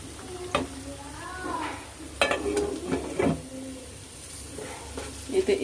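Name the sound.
fish being turned and stir-fried in spices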